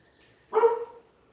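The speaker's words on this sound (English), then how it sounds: "Now my other dog's barking." One short, close dog bark rings out in a quiet village setting in the Philippines, standing alone against near silence.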